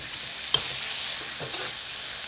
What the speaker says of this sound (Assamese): সকলোখিনি দিয়া হোৱাৰ পিছত এতিয়া আকৌ অকণমান সময় এনেদৰে লৰাই থাকিম।